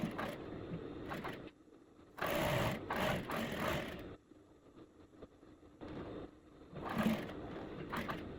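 A sewing machine stitches a sleeveless blazer in short bursts, a close buzzing whir that starts and stops several times with quiet gaps between runs.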